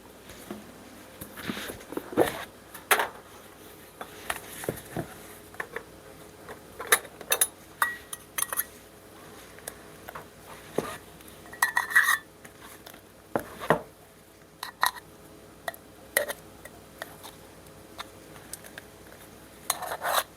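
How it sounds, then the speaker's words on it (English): Vegetable shortening mixed into flour and salt in a bowl for pie crust: intermittent scraping, clinking and knocking of a utensil against the bowl, scattered irregular strokes at close range with quiet gaps between. "Now I'm going to add 2 1/3 cup vegetable shortening, and I'm going to mix that in."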